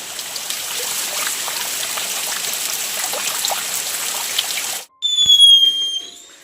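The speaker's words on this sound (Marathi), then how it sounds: "बाहेर पाऊस आहे." Rain falls outdoors as a steady, fairly loud patter and trickle for most of the stretch, then cuts out abruptly and gives way to a different, louder tonal sound at the end.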